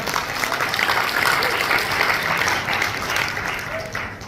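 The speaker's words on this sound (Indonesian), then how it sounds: "Beri tepuk tangan buat Tuhan." A church congregation applauds during a sermon at a regional church convention, with dense, steady clapping close and loud for the whole stretch and a slight easing at the end.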